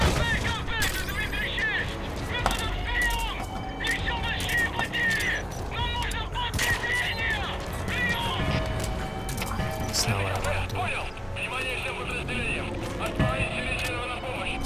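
Gunfire erupts in the Metal Gear Solid V game in dense, rapid bursts over continuous combat noise, and someone talks over much of it.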